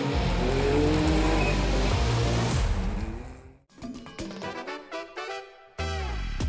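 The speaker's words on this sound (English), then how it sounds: "His Can-Am Maverick has a new engine, a new intercooler, and new electronics" A Can-Am Maverick rally raid car with a new engine and intercooler roars loudly past at close range, its sound sweeping by, then falls away into a quieter, stuttering engine rumble before rising again.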